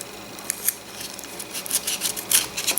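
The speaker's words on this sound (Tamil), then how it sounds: "செல்லோ டேப் இந்த மாதிரி கட் பண்ணிவிட்டு" Scissors snip through cello tape during a Redmi 6 display replacement, a series of light, crisp cutting clicks and brief rustles close to the mic, faint over a quiet room hiss.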